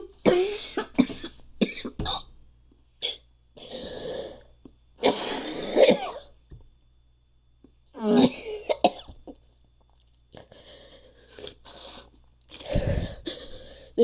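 Loud, close coughing fits with harsh gagging and retching sounds, coming in repeated bursts separated by short pauses, in a quiet indoor room late at night.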